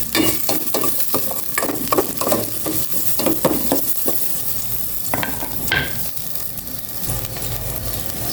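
Garlic fries in a pan while being stirred, a close sizzle broken by quick rhythmic scraping strokes early on, then a steadier sizzle with occasional clinks.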